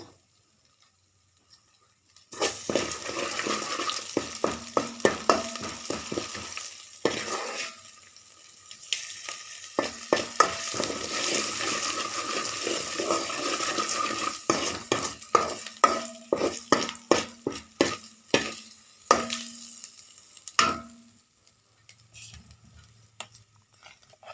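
Spices for tempering fry in hot oil in a pan while a spoon stirs and scrapes, giving steady sizzling broken by repeated sharp metallic clinks and scrapes, with brief pauses between bursts.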